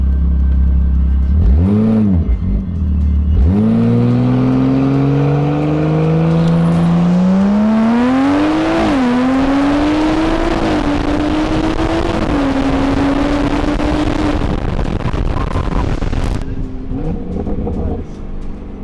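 Drag race car at a street shootout launching in second gear, a loud engine roar rising in pitch through a long pull and then fading, with people talking and cheering nearby throughout.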